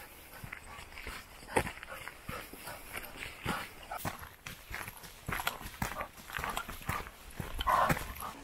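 A dog out on a countryside walk in Carron Valley near Glasgow, with its sounds mixed among crunching footsteps and clip-clop-like steps on the path, moderately close, with no voice heard.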